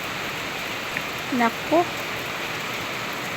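Heavy rain pours in a steady, dense hiss during a possible typhoon or low-pressure storm, with a person briefly exclaiming over it.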